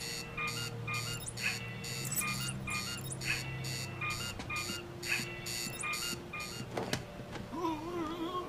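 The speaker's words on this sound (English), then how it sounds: "That's the alarm." An alarm from the Batman: Arkham Asylum video game sounds as a steady, insistent series of repeated electronic pulses over a low in-game hum, continuing throughout without any talking.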